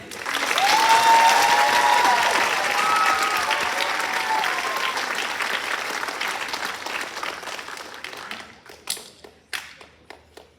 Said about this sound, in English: Let's give an extra hand to Miss Katara Frederick.